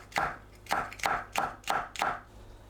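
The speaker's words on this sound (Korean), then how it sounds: "파, 청양고추를 둥글게 썰어주세요." Knife chopping green onion and cheongyang chili into rounds on a cutting board, six evenly spaced sharp thuds close up, with no talk.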